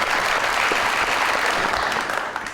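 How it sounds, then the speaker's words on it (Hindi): A studio audience on a talk show breaks into loud, sustained applause that fills the whole moment, thick and steady, easing slightly toward the end. "बहुत सारी तालियों में"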